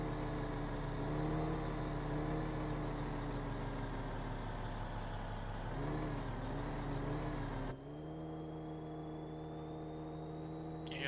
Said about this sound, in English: Can you hear the turbo spooling up?